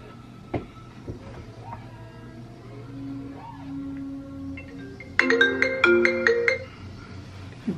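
A phone ringtone from an incoming call chimes in a repeating melodic pattern for the last few seconds, loud and close, after quieter room sound and brief tonal noises.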